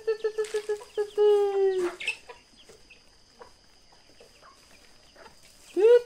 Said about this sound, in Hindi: पहले तो हम अपना आज मुर्गी सबको खाना खिलाएंगे